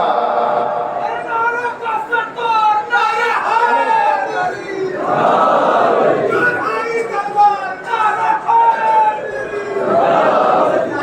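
Majlis audience in a large gathering chants religious slogans together, a loud rhythmic crowd roar of many voices that swells and dips in repeated waves throughout.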